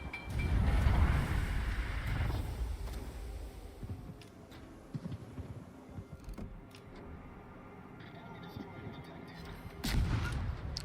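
Warship main guns fire in a World of Warships naval battle, a deep booming salvo at the start that rolls off, then scattered mechanical clanks and smaller impacts, with another heavy blast near the end.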